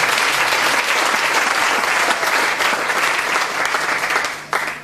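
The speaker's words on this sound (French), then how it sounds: "Est-ce que tu peux acclamer le Seigneur?" A church congregation applauding and cheering for the Lord, with dense, steady clapping from a large crowd that holds loud and even for several seconds before tapering slightly at the end.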